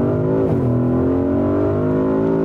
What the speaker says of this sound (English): So now we can go from 40 kilometers to 100 in the sports mode.